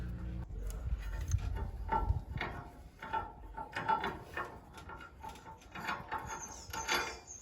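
A steel shackle on a chain being turned with an adjustable spanner, giving a run of small close metallic clicks and scrapes with irregular rhythm and no talking.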